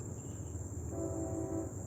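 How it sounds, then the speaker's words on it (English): A train horn sounds in the distance, a steady tonal blast rising in the middle and then fading, under a constant insect-like drone. "I don't know if y'all hear that train in the background blowing while I'm talking"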